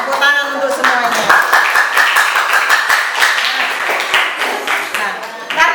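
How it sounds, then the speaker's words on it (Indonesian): Students in a school classroom clapping together after presentations, a loud, close burst of individual hand claps with a clear beat, while voices are faintly heard beneath it. "Tepuk tangan untuk semuanya."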